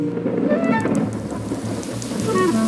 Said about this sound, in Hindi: बारिश हो रही है विनी, भागो।